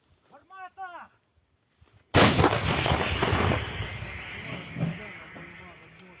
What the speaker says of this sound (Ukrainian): Так працює гармата гаубиця Д-20